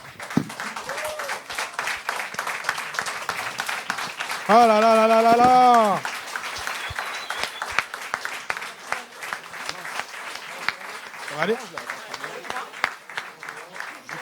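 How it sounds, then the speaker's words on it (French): Continuous crowd applause with dense clapping throughout, while a person speaks and a short musical or vocal flourish rises over it midway. "Oh, on peut applaudir."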